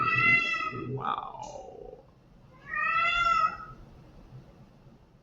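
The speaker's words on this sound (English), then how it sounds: "If you're hearing a meow, that's the cat." A domestic cat meows twice, once at the start and again a moment later, each a clear drawn-out cry, while a person briefly speaks in the background.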